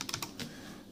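A Lenovo Calliope USB keyboard produces a quick burst of four or five soft, close keystrokes, then quiet.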